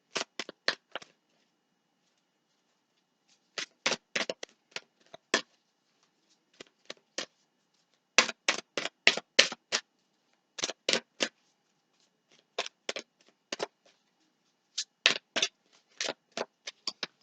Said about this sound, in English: is not normally the way I shuffle this deck.